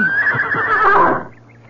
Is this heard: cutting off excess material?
no